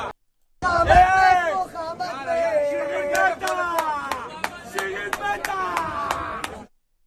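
Sharp, separate claps ring out in a steady rhythm, close by, at a crowd gathering of Israeli settlers, over a babble of crowd voices and shouting.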